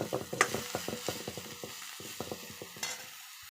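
Mixed vegetables get stir-fried gently in a pan, a quick regular series of light clicking scrapes from the spatula over a soft sizzle, ending abruptly in silence.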